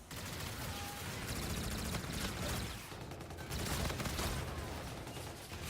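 An automated turret fires in a shooter game, a dense, continuous stream of rapid gunfire heard fairly faint and steady throughout, with no pauses.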